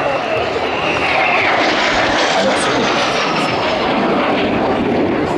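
Patrouille de France jets cross in an inverted pass at the 2023 La Ferté-Alais air show, a loud, continuous roar that swells and fades slightly while a commentator's voice talks over it.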